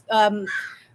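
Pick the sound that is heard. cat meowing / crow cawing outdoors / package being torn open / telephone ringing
crow cawing outdoors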